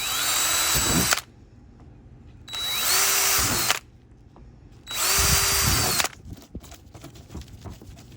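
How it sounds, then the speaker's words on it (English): A power drill with a 3/8 inch bit whines loudly in three separate bursts, drilling holes in a trash can, each a few seconds long with brief pauses between, close by and with no voices. "So we're going to drill out the first set."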